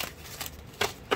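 A deck of cards is riffled and shuffled by hand in a quick, close-up series of papery bursts, with short pauses between flurries and no talking.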